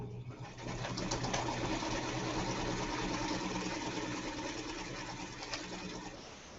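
A sewing machine stitches a quilt block with a steady, continuous whirring hum for several seconds, close by, with no talk over it.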